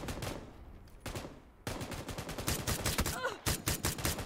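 Rapid video game gunfire rattles in dense, overlapping bursts for the whole stretch, loud and close, with a brief lull near the start before the shooting resumes more heavily.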